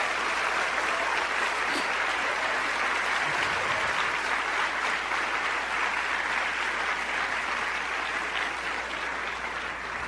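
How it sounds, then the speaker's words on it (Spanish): A church congregation applauds during a Christmas sermon, steady dense clapping that fills the whole stretch at an even level with no talking. "¿No le dan un aplauso a Dios?"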